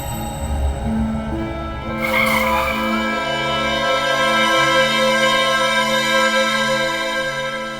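A car skids to a stop with a loud, sustained tire squeal that starts abruptly and rings on for several seconds under a musical backdrop, no speech during it.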